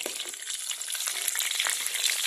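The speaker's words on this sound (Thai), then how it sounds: "ทอดไส้อั่วเทครับผม" Vegetarian Thai sai ua sausage fries in hot oil with a dense, steady sizzle and crackle, close and continuous with no voices.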